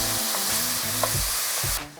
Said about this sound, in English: So now that our onion has charred, we're going to add in our tomato.